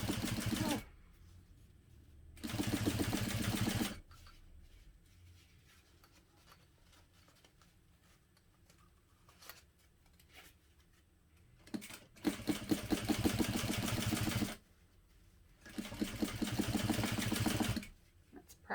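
Sewing machine stitching the lining of a hobo bag, running in several loud bursts of rapid rhythmic needle chatter separated by quiet pauses.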